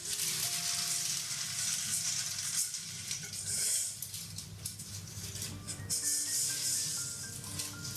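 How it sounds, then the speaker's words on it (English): Dry beans poured into a pastry-lined pie pan for a chocolate cream pie make a steady hissing rattle that runs throughout, fairly close, over a faint background hum. "we are going to put some dry beans in it"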